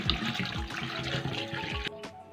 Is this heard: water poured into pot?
yes